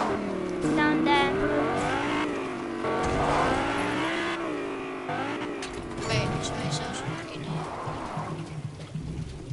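A Lamborghini engine in a racing video game revs and roars in rising and falling sweeps, loud and close, while a voice talks over much of it.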